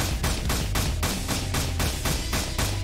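Rapid, steady bursts of video-game gunfire aimed at enemies in Save The Boy, about eight evenly spaced loud volleys over a constant low rumble, with no talking.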